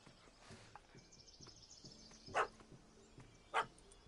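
A dog barks in the video game The Witcher 3, with two sharp, fairly loud barks standing out over quiet background sounds.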